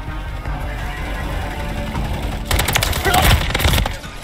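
Rapid automatic gunfire bursts out loudly partway through a Call of Duty Modern Warfare III multiplayer match on the Rust map, following a stretch of quieter game ambience and engine-like rumble.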